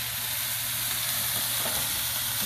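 Hamburgers frying in a pan with melting butter, a loud, dense, continuous sizzle close up and steady throughout with no talk.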